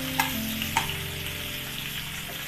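Sweet potato slices frying in a pan, a steady close sizzle with a couple of soft stirring scrapes near the start.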